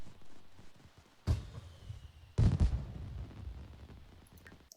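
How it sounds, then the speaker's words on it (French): Fireworks in The Sims 4 go off as two soft, deep booms a second apart, each trailing into a low rumble, quiet and with no one speaking. "Les feux d'artifice faisaient beaucoup de bruit par contre."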